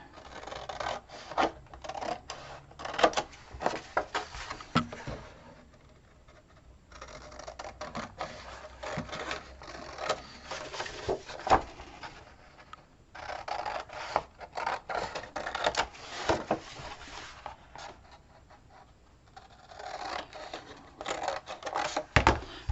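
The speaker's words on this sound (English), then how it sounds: "let me get my scissors and show you. So I go ahead and cut on those lines." Scissors snip and rasp through paper in bursts of quick cuts, separated by short pauses, close and fairly quiet.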